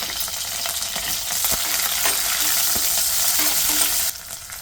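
Mustard seeds, cumin, green chillies and onion pieces frying in hot oil in a pan, a loud continuous sizzle with faint crackles and stirring throughout, no talking.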